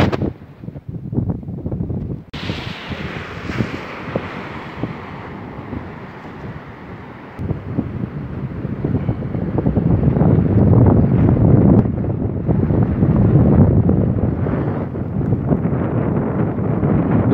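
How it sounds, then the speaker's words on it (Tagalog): Typhoon Fabian drives strong wind and big sea waves along the coast at Cato, Infanta, Pangasinan. The roar is loud, steady and broadband, with gusty buffeting on the microphone that grows heavier in the second half. "Titignan natin dito yung malaking alon."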